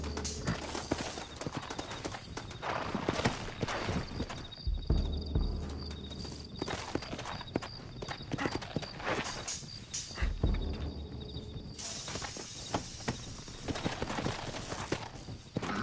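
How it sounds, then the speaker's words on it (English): Horse hooves clip-clop at a walking pace in the video game Red Dead Redemption, steady and moderately close, with faint ambient noise around them. "Looks like Carlos left us some horses"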